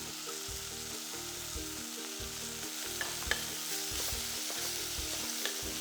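Ginger, garlic, white spring onion parts, chili and salted fish fry together in a pan, giving a steady loud sizzle with rhythmic stirring and scraping pulses throughout.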